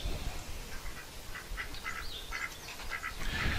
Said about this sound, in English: I know the ducks will not shut up until I feed them